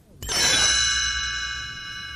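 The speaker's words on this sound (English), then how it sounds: "You will know it is time to turn the page when the chimes ring like this." A single bright chime strikes once and rings out, its shimmering tone sustaining and slowly fading.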